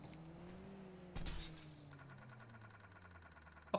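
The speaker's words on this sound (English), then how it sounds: "All I did was shoot the windows" In GTA, gunfire breaks car windows with one sudden, sharp burst of shattering glass, set against a low idling engine and a rapid mechanical ticking that follows.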